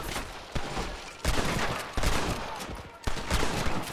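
Gunfire in Red Dead Redemption: a string of sharp rifle and pistol shots cracking at irregular intervals, with several bursts echoing close and loud over the game's background.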